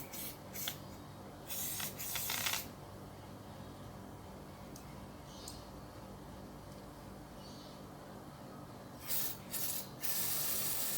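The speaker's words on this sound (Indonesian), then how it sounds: "gunakan kacamata kalau memakai penyemprot ya, disemprot nih." Petrol sprayed in short hissing bursts to flush a clogged Nissan Grand Livina fuel filter: two quick blasts at the start and another near the end, with quieter workshop background between.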